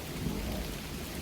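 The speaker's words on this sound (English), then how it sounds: "with dripping rain, thunder in the background" Thunder rumbles low and continuous under steady dripping rain, a soft and fairly faint outdoor storm texture with no one speaking.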